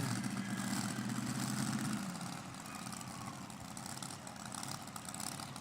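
A pulling tractor's new engines roar at a tractor pulling event, loud and steady with a low drone that eases after two seconds into a sustained rumble, with no voices.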